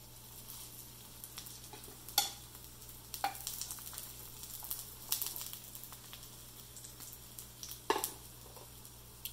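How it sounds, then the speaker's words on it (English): Vegetable cutlets made with Marie biscuits frying in oil with a quiet, continuous sizzle. Occasional sharper crackles and pops rise above it. Close by and without voices. "You can hear the sizzle."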